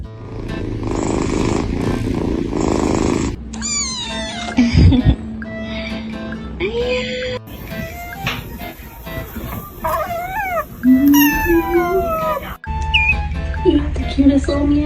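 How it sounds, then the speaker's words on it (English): A black cat makes several high, wavering meows and chirps of varied pitch, close by and interrupted by gaps, with a person speaking softly between them. "You have the cutest little meow."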